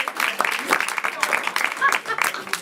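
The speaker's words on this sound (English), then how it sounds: "All right, clap for yourself." Live audience at a New Year's Eve game show clapping for themselves, a scattered round of applause heard alongside ongoing talk and voices.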